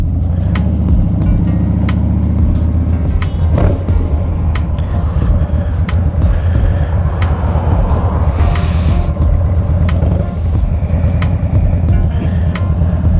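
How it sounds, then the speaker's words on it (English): Road traffic rolls past during a ride, a loud, continuous rumble of engines and tyres with scattered sharp clicks and knocks throughout. "A little bit of traffic."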